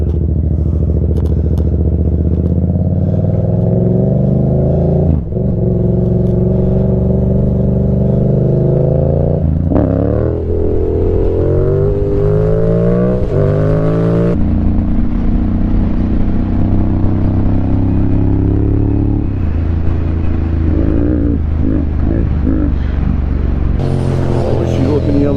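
A fastback car accelerates past on a road, its engine note rising and shifting through gears as it revs, loud and close, mixed with other traffic noise.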